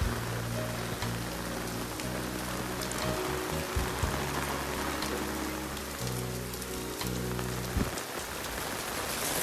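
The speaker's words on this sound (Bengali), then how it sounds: "পুরো ভয়ঙ্কর বৃষ্টি পড়ছে" Heavy rain pounding on the Ganges bank, a dense continuous hiss of drops on surfaces with a low rumble beneath, steady and fairly quiet with no voices.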